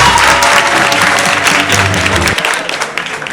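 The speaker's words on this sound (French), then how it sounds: "On l'applaudit." Audience applause at a student debate contest, dense and steady clapping from a hall crowd for a candidate, fairly loud, thinning near the end.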